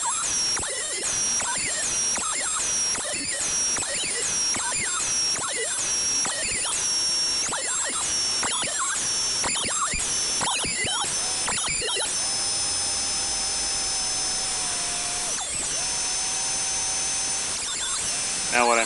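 A power planer runs pallet wood pieces through continuously, a loud, harsh whine with repeated bursts of rough cutting, then a steadier high-pitched spin near the end, all close and overwhelming.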